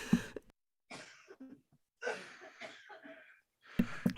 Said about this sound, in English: I really did have to cough